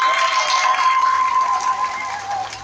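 A gathering of twins in Côte d'Ivoire applauding, a dense, fairly loud wash of clapping mixed with cheers that holds steady and eases slightly toward the end.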